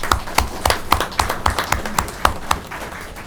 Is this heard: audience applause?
yes